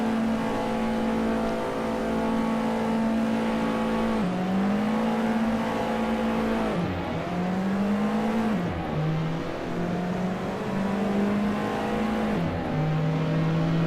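An Alfa Romeo 4C engine drones steadily in a racing video game on the Nürburgring, holding high revs with dips and climbs as gears shift, close and loud with no talk.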